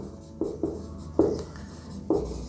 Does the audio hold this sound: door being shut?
no